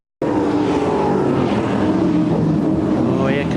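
A 1996 V8 Supercar engine roars in third gear through the Foster chicane at the Gold Coast race, a loud sustained drone with shifting pitch, and a race commentator talks over it.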